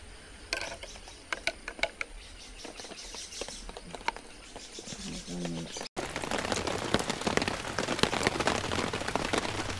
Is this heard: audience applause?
no